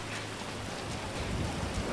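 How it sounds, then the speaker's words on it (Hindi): Steady rain pours down in the GTA 5 video game, a dense, even hiss with low rumbling underneath that keeps up unbroken through the whole stretch, with no voices over it. "अच्छा बारिश भी होने लग गई है"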